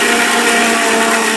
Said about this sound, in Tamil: நம்ம பிளெண்ட் பண்ணலாம்.